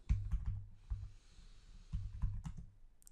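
Fingers tap quickly on a computer keyboard, producing two short bursts of close, crisp clicks separated by a brief pause, with no talking over them.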